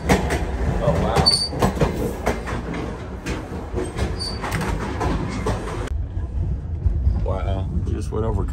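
An old passenger train runs on the rails between Lviv and Kyiv, a loud, bumpy rumble with rattling carriage clatter and rolling wheels throughout. A person talks over the noise.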